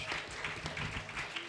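Applause from a convention panel audience at BronyCon 2013, a steady wash of clapping filling the room with faint voices mixed in.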